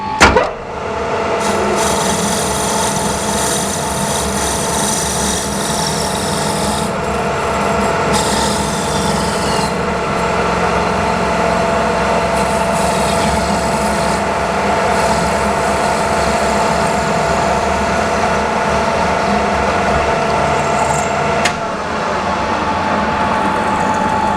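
A metal lathe parts off a workpiece after thread cutting, giving a loud continuous grinding scrape with a steady ringing whine. It runs close and unbroken for about twenty-four seconds, with brief shifts in pitch and no talk.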